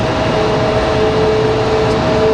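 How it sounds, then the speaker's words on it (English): A loud, steady roar of Boeing 777 jet engines spooling up at Raleigh-Durham International Airport, with a sustained whine running through it, continuous and close, with no voices. "As the 777 starts to get a move on, you can hear it."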